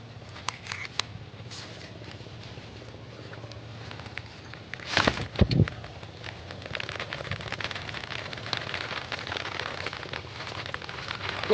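Heavy rain patters steadily on a surface in the Sundarbans countryside, likely onto an umbrella held overhead. The dense, continuous drumming runs throughout, with a brief louder burst of crackling contact near the middle.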